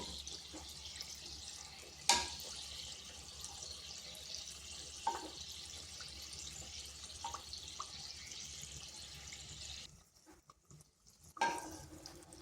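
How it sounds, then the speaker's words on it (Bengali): A Dhakai paratha fries in a pan over medium heat, giving a steady, soft hiss with a few brief clinks and taps. The sizzle drops away near the end. "আঁচটা মিডিয়াম আছে রেখে করে এইভাবে ভাজতে হবে"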